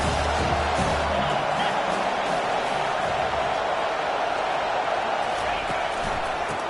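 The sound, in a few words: football stadium crowd cheering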